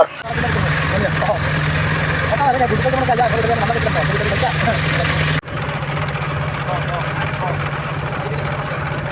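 A steady, droning boat engine runs continuously at close range on the Matamuhuri River, low and constant, with a brief dip partway through and faint voices underneath.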